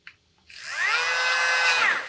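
A Dremel rotary tool spins up after a brief click, rising to a steady high-pitched whine that holds strong and loud for over a second.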